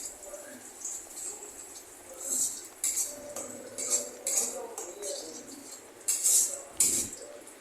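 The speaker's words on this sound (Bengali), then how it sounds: "কসৌরি মেথি দেওয়ার পরে আবার ভালোভাবে নেড়েচেড়ে নেব।" A spoon stirs dry spices and kasuri methi in a pan for a vegetarian curry, making soft scraping clinks that come and go in short bursts. The sound is close and moderately quiet, and there is no talk.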